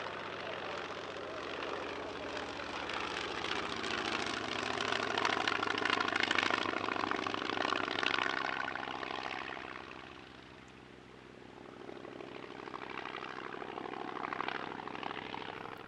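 A Polikarpov Po-2 biplane engine at an airshow, a faint steady propeller drone that swells louder in the middle and fades as it passes at a distance, with quiet voices in the background.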